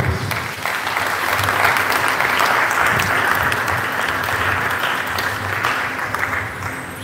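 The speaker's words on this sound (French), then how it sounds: "Je pense que ça mérite des applaudissements." A congregation at an evangelisation and formation evening applauds loudly, a dense, steady wash of many clapping hands that lasts several seconds with faint voices underneath.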